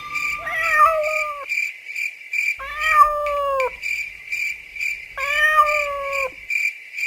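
Three drawn-out meows from a black cat, separated by short pauses, over a steady high-pitched chirring of crickets or insects in the background, in an animated horror story.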